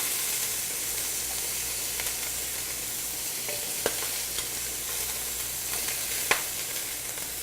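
Shrimp fry in hot oil in a pan, giving a loud, steady, close sizzle with an occasional pop or crackle.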